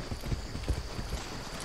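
A horse's hooves clip-clop in a steady, rhythmic gait while riding in the Far Cry 6 video game, the close thuds repeating evenly over a background hum.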